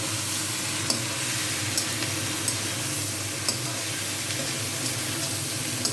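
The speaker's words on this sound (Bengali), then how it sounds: "ভালো করে ভাজা ভাজা করবো।" Masala dosa filling with ginger paste and salt sizzles steadily in a frying pan, with a spoon stirring and scraping in light, irregular clicks over the constant hiss, close and fairly loud, with no talking.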